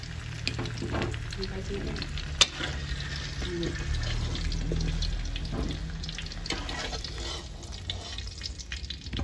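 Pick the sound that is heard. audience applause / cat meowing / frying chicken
frying chicken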